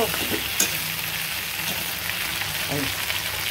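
Food frying in a shallow layer of oil in a pan, a steady close sizzle running throughout with a few brief clinks and scrapes on top.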